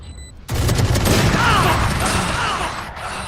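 Gunfire in Valorant during a House of Odin vs House of Zeus match, a sudden dense burst of shots that swells into sustained rapid firing and then tapers slightly, with faint commentary underneath.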